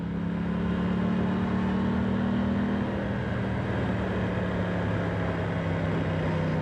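A 2025 Aprilia Tuono 660 Factory motorcycle engine drones steadily at low speed in third gear, a close, continuous hum that dips slightly in pitch partway through, with no talking.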